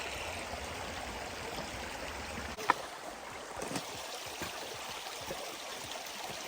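Continuous rushing of a flowing creek, steady and close, with a brief knock partway through.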